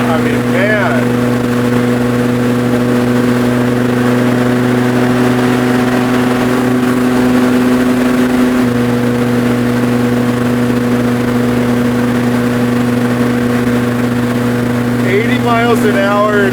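An 800 hp 9.0-litre V10 Plymouth hot rod engine hums in a steady, loud, low drone while driving, its pitch holding level throughout, with voices talking over it inside the car.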